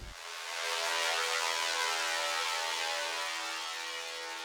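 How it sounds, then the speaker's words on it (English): A bright synthesizer pad swells in after a short thump, a shimmering airy wash with sustained tones that holds and slowly fades, sounding distant. "a very particular type of atmosphere I'm calling a distant riser"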